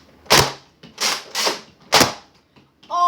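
Several sharp Nerf blaster shots crack close by in an irregular sequence, about five loud pops with short mechanical clicks between them and a brief tonal sound at the end.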